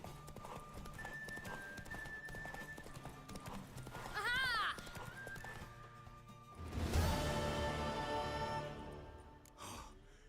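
Galloping horse hooves in The Witcher 3 clatter steadily under game ambience, with a whinny partway through and a loud crash-like burst near the end, moderately loud.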